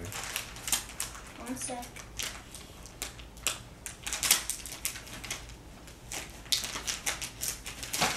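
Packaging for fishing gear being torn open nearby, with crinkly ripping and rustling in repeated bursts while people talk over it.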